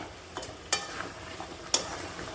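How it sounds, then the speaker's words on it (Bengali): Hot water added to sizzling chicken curry with beans in a pan, a steady hiss of frying under a few sharp clinks and scrapes of a spoon, close and fairly quiet. "এবার আমি এর মধ্যে এই দেখুন গরম জল দিচ্ছি"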